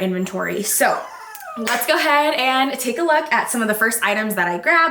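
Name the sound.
puppy crying and whimpering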